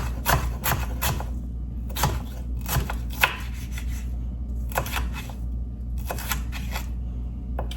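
A knife dices dill pickles on a cutting board in quick bursts of crisp chops separated by short pauses, close and distinct, with no talking.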